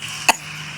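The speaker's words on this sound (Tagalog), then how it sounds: "Inuubo ako" A single short cough from someone with a sore throat, close and fairly loud, with quiet background around it.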